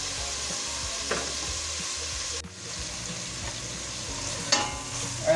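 Tomatoes fry in oil for sinigang sa miso, giving a steady close sizzle with a few soft stirring scrapes and light knocks against the pan.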